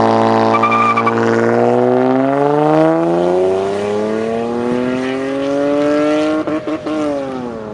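A car launches hard and accelerates, its engine note climbing steadily in pitch through the gears with a brief dip near the end, loud and close with no talking.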